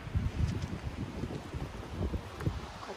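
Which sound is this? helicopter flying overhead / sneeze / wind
wind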